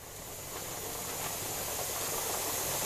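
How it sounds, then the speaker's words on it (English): A pressure canner vents at full steam while home canning: a steady, loud, continuous hiss that rises slightly at the start and then holds unbroken throughout. "I'm sure you can hear it. That's full steam."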